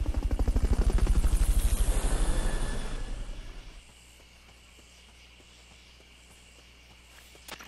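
Helicopter in the video game Metal Gear Solid: Peace Walker, a loud chopping rotor beat close up that fades away after about three seconds, leaving quiet ambience with faint footsteps.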